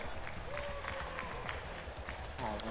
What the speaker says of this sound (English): could we give a round of applause for Team Wilderness?